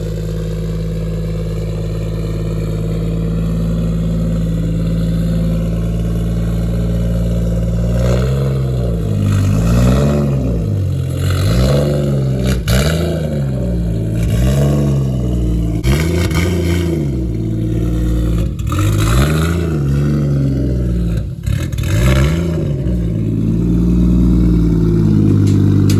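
A Toyota Mk4 Supra revs hard on a dyno, the engine idling then surging through several loud, rising bursts of revving that repeat in waves, close and alone without talk.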